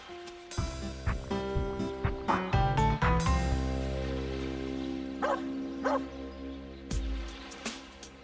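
A dog barks and yips repeatedly at close range, loud sharp bursts scattered through the stretch with some whimpering, heard alone without talk in a police K9 drama scene.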